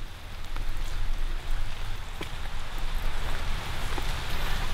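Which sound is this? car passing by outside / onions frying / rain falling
rain falling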